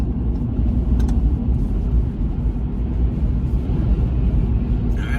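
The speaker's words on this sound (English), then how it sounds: "Look, here comes this big old semi. He's gonna go past us." A big semi truck rolls past on a Rocky Mountains highway, a heavy low rumble of engine and tires that stays steady and loud throughout, with no talk.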